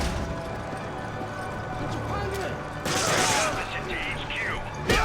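Gunshots ring out in the survival-horror video game Resident Evil 5, a run of sharp, close shots over a steady game-noise background, with a voice talking over them.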